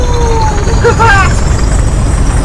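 A Western class diesel locomotive pulls away with a loud, heavy low engine roar, and brief rising tonal sounds cut through near the start.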